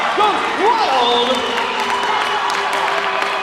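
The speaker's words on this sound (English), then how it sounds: "The crowd goes wild." Crowd at a roller derby game cheering and clapping in a steady, dense wash, with whoops rising over the noise throughout.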